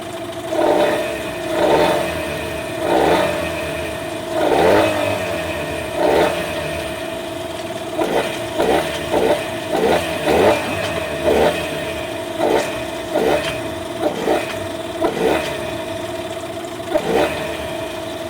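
A Yamaha outboard boat motor, warmed up, runs steadily, with periodic surges and sputters in its rhythm as the throttle drops sharply, loud and close throughout.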